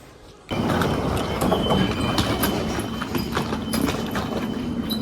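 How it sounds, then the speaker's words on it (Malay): Rhythmic clattering of train wheels over rail joints, a steady rolling clack heard from inside a moving carriage after a brief quiet start. "Naik train."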